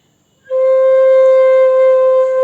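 After a short silence, a single bright C-scale bansuri flute note (Sa) enters and is held steadily, clear and loud with strong overtones.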